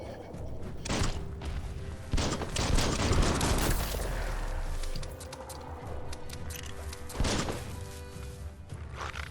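Rapid bursts of gunfire and heavy impact thuds from combat in the video game Biomutant, loud and dense across the whole stretch with no talking over it.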